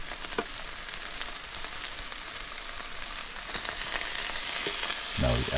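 Corned beef with hot pepper fries in a pan, giving a steady close crackling sizzle with scattered pops and a scrape of stirring near the end.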